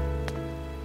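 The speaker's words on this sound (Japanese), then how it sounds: "急に雨が降るなんて困りましたね。" Sudden rain falling outdoors, a steady close hiss of drops on a surface with a brief soft splash, no voices.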